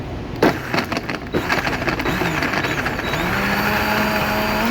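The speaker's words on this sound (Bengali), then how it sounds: "সুন্দর করে ব্লেন্ডার করে নেবেন।" Blender whirring through a lemon juice drink, starting with a few sharp knocks and clatters before settling into a steady motor hum that runs to the end, no talking.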